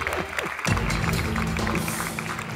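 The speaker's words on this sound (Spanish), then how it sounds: "El aplauso para Alejandro, Román, porque borran y vuelven a escribir." A Spanish-language game show studio audience applauds the contestants, a short burst of clapping mixed with tonal music and background sound.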